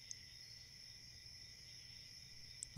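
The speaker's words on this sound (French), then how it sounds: "les grillons qui chantent" A steady, thin high-pitched insect trill holds throughout, quiet and continuous, ending with a sudden knock.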